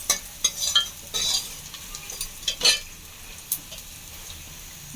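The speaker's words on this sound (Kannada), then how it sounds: "ಆನಿಯನ್ ಬ್ರೌನ್ ಕಲರ್ ಬರಬೇಕು, ಅಲ್ಲಿ ಗಂಟ ಫ್ರೈ ಮಾಡ್ಕೊಳ್ತೀನಿ." Sliced onions fry in a pan for ladyfinger sambar, a soft steady sizzle broken by several sharp scrapes and clinks of a spoon stirring against the metal, close and clear with no voices.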